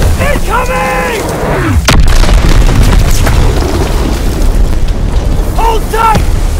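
A heavy, booming blast goes off in a Call of Duty: World War II battle, landing near and loud amid shouting voices, rumbling mechanical noise and further detonations.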